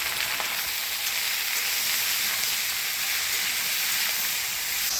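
Chopped ridge gourd, green chilies and salt hitting a hot pan in a Bengali village kitchen, setting off a loud, steady sizzle of frying that holds evenly with bright hiss throughout, no talking.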